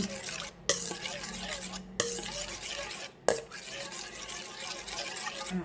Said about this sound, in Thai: ก็คนให้เข้ากันเลย คนพอดีพอดีไม่ต้องไปคนแรงมากนะคะ